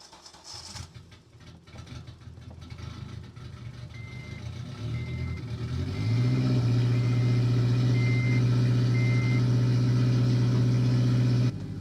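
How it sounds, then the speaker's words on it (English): A car engine with a weak, worn-out battery cranks slowly and struggles for several seconds before catching into a loud, steady idle, close up with faint intermittent beeping and no talking. "That was a rough cold start for the boys. This battery is smoked."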